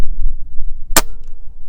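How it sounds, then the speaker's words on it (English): A single sharp crack from a Gamo Urban .22 caliber air rifle, a cheap unregulated bolt-action PCP, firing one pellet up close against quiet background, with a faint ringing tail afterward. "a very inexpensive 22 caliber air rifle. Let's go ahead and try another one."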